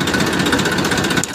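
A tractor engine runs at a steady idle-like chug, loud and close, with a rough mechanical rattle throughout and no talking.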